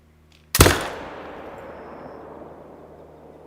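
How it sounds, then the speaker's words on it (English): A single loud hunting rifle shot at a deer in theHunter: Call of the Wild, Mississippi, with a sharp crack followed by a long echoing decay that fades across several seconds in an otherwise quiet scene. "I'm going to have to shoot him"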